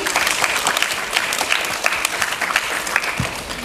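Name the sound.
applause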